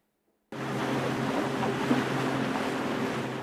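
Steady rush of a boat moving across open water in the Gulf of Aden, with constant engine hum, hull wash and wind noise starting abruptly after a short silence and holding evenly throughout.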